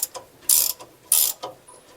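A ratchet wrench clicks close by while tightening a C10 3-inch drop spindle, with two bursts of rapid ratcheting and a few lighter clicks between them.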